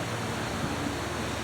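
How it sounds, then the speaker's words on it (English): Steady broadband rushing noise of wind buffeting a microphone outdoors in a garden, constant and close throughout. "And I apologize for the wind."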